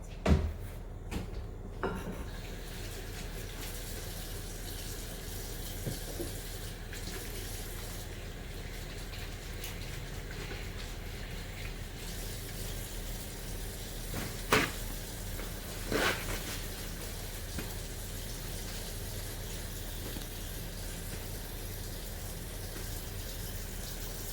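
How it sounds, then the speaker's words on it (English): Water runs steadily from a tap as hands are washed at a lab sink, a soft continuous flow with occasional clatters and knocks throughout. "Then we're going to wash our hands."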